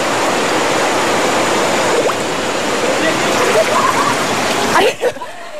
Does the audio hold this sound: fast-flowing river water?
yes